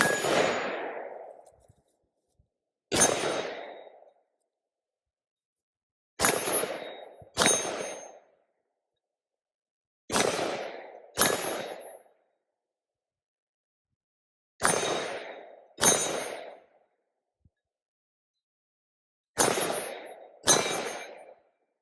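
Rifle shots of frangible ammunition striking steel targets, each a sharp bang followed by a ringing metallic decay, fired as single shots and close pairs with a few seconds of silence between them.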